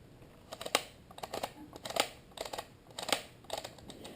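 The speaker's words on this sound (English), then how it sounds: "Actually hear when it hits into that detent because you'll hear it snap." A plastic HVAC control part from a Hummer H3 dashboard snaps into its detent, giving a quick series of sharp, close, small clicks and snaps at an uneven rhythm.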